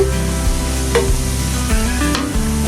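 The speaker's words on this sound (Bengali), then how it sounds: "পেস্টটা আমি কিছুক্ষণ ভেজে লাল করে নেব" Onion and spice paste fries in a pan for beef curry with green papaya, a loud continuous sizzle broken by scraping stirring strokes about every second, close up and without speech.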